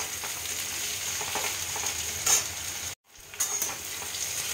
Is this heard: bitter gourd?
yes